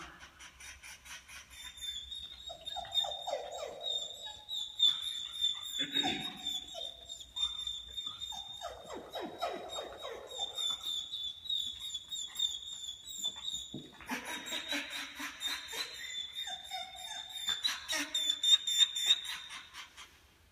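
An excited dog during a training session gives repeated whines and whimpers in irregular bursts, with a steady high-pitched electronic tone running underneath.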